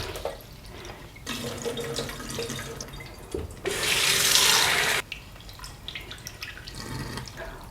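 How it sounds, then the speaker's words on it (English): Tap water runs into a sink while black rice is washed, with splashing and dripping that swell into a louder gush midway, then drop back to trickles and wet handling sounds. "let's wash the black rice"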